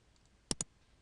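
Two quick, crisp mouse clicks close together in a quiet room.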